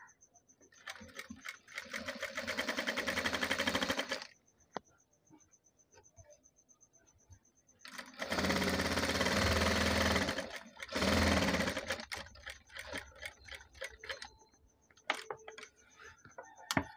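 Sewing machine stitching together pieces of a patchwork design blouse: several loud, fast-running bursts of needle clatter separated by pauses with small clicks and handling sounds, close up.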